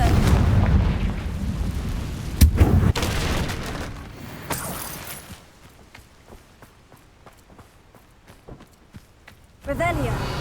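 Fiery blasts from a Confringo spell in Hogwarts Legacy burst with loud booms up close, followed by quieter footsteps and scattered thuds before another heavy impact; a voice speaks briefly.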